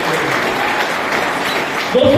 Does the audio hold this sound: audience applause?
yes